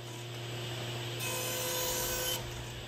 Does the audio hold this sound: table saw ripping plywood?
yes